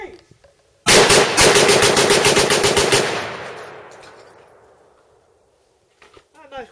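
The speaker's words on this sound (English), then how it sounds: "I'll do 15 rounds with the buttstock, 15 rounds with buttstock collapse." A Ruger Mini 14 rifle is fired rapidly on a shooting range, giving a loud burst of about a dozen sharp closely spaced shots that ends in a long fading echo. A brief voice can be heard before and after.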